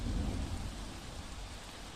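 Heavy rain shower during monsoon downpour in Tapi, a dense, steady broadband wash of rainfall with deep low rumble, loud and continuous with no voices.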